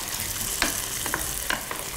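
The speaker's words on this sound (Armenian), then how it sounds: "Ինչ վիճակում է կարտոֆիլը, նորմալ իր համար տապակվում է։" Potatoes frying in vegetable oil in a pan give a steady, even sizzle with a few soft clicks and scrapes from stirring, close and moderately loud with no talking.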